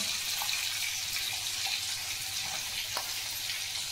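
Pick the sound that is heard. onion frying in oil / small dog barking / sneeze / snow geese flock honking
onion frying in oil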